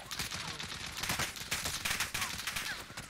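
Rapid gunfire fills a video game firefight, a dense continuous fusillade of overlapping shots, fairly quiet and steady throughout with no clear talk.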